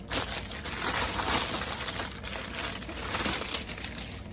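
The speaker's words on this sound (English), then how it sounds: "I'm gonna go ahead and unwrap this" Plastic packaging crinkles and crumples loudly and continuously, close up, as it is pulled off an Undefeated Air Jordan 4 sneaker, with no voices over it.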